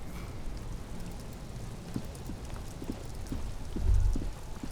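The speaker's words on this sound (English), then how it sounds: "Droplets of rain fall on the white on blue police livery of the motor carriage" Rain falls on a white-and-blue police motor carriage in Disco Elysium, a soft steady patter with scattered distinct drops tapping the surface and a low thud near the end.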